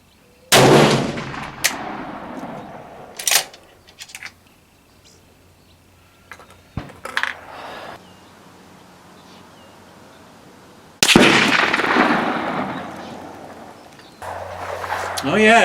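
A Steyr CISM rifle fires 7.5x55 Swiss ammunition at an outdoor range, with a few loud, sharp shots at irregular intervals, each followed by a ringing decay, plus quieter handling clatter between them.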